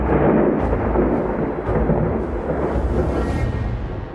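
Steady, heavy rumble of a thunderstorm with downpouring rain, loud and continuous throughout with no voices, set near banana groves at night.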